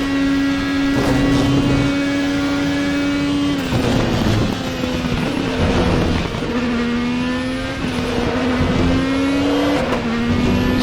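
Indycar turbo engine in the RaceRoom Racing Experience video game at Spa, revving high and steady near the listener, pitch rising and dropping through gear shifts and lifts, with no talk.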